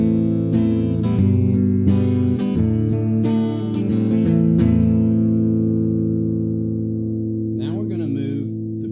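Electric guitar with the pickup switch in the middle so both pickups run in GF mode, strummed chords ringing out loudly and sustaining, then a brief softer figure near the end.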